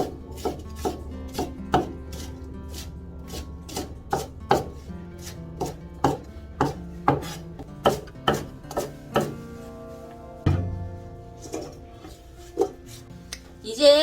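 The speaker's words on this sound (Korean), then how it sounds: "송송 썰어서 해야 될 것 같아요" A knife finely chops oversized wild chives (dallae) on a wooden board, a long run of sharp, close knocks in an uneven rhythm with brief pauses, clear and loud above a quiet background.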